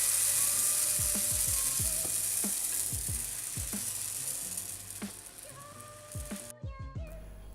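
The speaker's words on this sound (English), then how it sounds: "when it gets to the temperature, you can start to cook your delicious pancakes" Pancakes cooking in a frying pan heated to medium-high, giving a steady close hiss of sizzling batter broken by a run of sharp repeated clicks and knocks, with no talking.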